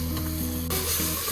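Spices and meat for kabsa sizzle loudly in a hot pan while being stirred, a dense, continuous frying hiss that briefly flares brighter midway, close up and without speech.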